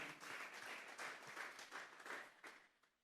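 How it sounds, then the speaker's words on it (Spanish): Congregation applause during a Sunday church service, a fairly faint, steady patter of many hands clapping together for about three seconds before tapering off, with no talk over it. "Démosle una ofrenda de palmas a Dios en esta hora."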